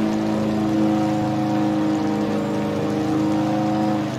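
Rain in the Dirt Rally 2.0 racing game, heard from the onboard camera of a Subaru WRX on a wet Spanish stage: a steady hiss of rain over a constant droning engine hum, continuous and fairly loud.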